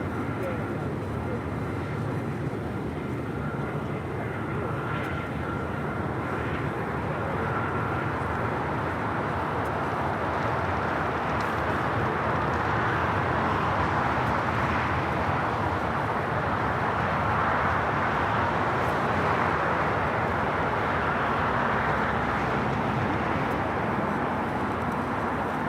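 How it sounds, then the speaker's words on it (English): An Alaska Airlines Boeing 737-800 takes off from LAX bound for Portland, its engines a broad, steady roar held throughout, with a voice talking over it. "Now have that Alaska flight 737-800 rolling, taking off to Portland."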